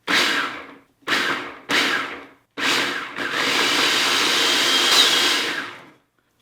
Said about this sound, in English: I'm just gonna pour this right into that food processor and blend it up that way